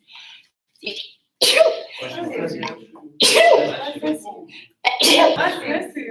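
A few loud, abrupt sneeze-like bursts erupt close by, spaced a couple of seconds apart, between stretches of quieter voice sounds.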